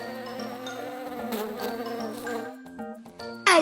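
A cartoon bee buzzes in a children's animated show, a bright wavering drone set against light music, steady for a few seconds before a sharper accent at the end.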